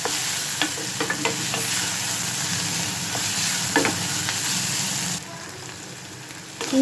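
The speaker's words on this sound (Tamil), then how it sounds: "நான் வந்து ஒரு 1/2 டீஸ்பூன் இஞ்சி பூண்டு பேஸ்ட் ஆட் பண்ணுறேன்." Ginger garlic paste frying with onions in a pan for a potato masala, a steady close sizzle with intermittent stirring scrapes and clinks.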